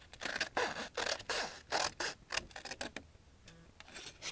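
Scissors or a blade slicing straight up through a scored cardboard box, a close run of crisp rhythmic snips and scratchy cuts that taper off into quieter rubbing.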